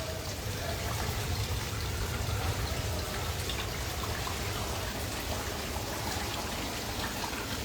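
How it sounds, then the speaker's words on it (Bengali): A dense, steady roar of rain and hail pelting surfaces outdoors in Thakurgaon, loud and continuous with no talk over it. "এই দেখেন কী পরিমাণ শিলাবৃষ্টি পড়েছে।"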